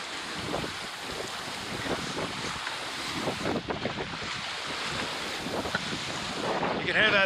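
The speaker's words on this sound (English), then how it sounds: "You can hear that bump when a wave hits the side of the boat." Waves slap and bump against the hull of a sailboat under way in strong wind, with loud, steady wind rush over the microphone throughout and heavier gusts toward the end.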